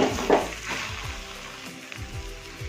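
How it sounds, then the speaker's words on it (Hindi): Chili and garlic sizzle in a pan with chickpea greens, a steady, soft frying crackle with occasional stirring scrapes, close but fairly quiet, and no talking. "ये जो मिर्च और लहसुन है वो अच्छे से फ्राई हो गया है"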